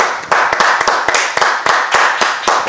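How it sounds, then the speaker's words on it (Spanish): Small audience welcoming a guest with applause, a thin, uneven patter of a few hands with distinct individual claps standing out sharply and close, continuing steadily for under three seconds. "vamos a dar la bienvenida con un aplauso a Andrés Vargas."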